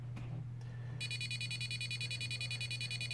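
A piezo buzzer sounds a continuous, piercing electronic alarm tone, a rapidly pulsing high beep that starts abruptly after a moment and holds steady over a constant low electrical hum.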